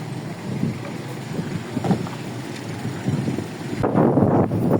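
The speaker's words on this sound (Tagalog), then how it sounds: "Lakas ng hangin." Steady low rumbling wind buffets the microphone, gusting harder toward the end with a broad roaring blast.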